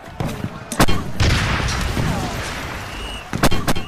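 Mortar and artillery fire in a battle at Kapyong: sharp booming blasts near the start and a cluster of reports at the end, with rumbling, noisy battle ambience between them.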